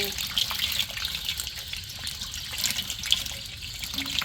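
Water runs continuously and splashes during a change of fish water, with a steady trickling gush and small spatters heard up close.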